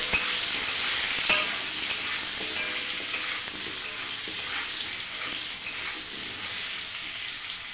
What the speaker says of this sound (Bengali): আলু ভেজে নেব। লবণ হলুদ দিয়ে দিয়েছি, একটু ভেজে নেব।